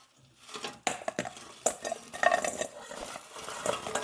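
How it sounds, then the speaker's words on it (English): Pizza rolls clatter and tumble into a bowl in a few uneven bursts, with light clinking against the dish, close up and fairly quiet. "We're going to take the pizza rolls and pour them into a bowl."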